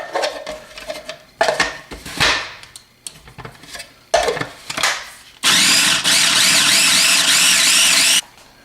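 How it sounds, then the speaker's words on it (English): A food processor chopping garlic with olive oil: several short pulsed bursts of blade chatter and rattling, then a loud continuous whirring run lasting a few seconds before stopping. "First ingredient, garlic goes in the food processor."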